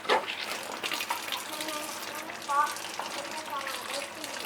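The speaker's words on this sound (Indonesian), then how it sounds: "sekalian kuras kotoran ya. Kotorannya disedot" Water drains and is siphoned out of a snakehead fish tank, a steady gushing, splashing flow that runs continuously with a brief louder surge near the end.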